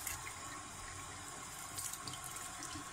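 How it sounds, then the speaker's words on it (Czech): Tap water runs steadily over broccoli being rinsed in a kitchen sink, a soft, continuous splashing stream that stays quiet and even, with no talking. "Když ji otočíme, tak tady bude zeleninou protíkat voda."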